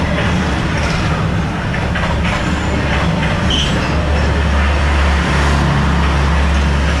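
A train rumbles steadily past at close range along Hanoi's narrow train street, its wheels and carriages producing a loud, continuous roar with faint squeals, and no talk over it.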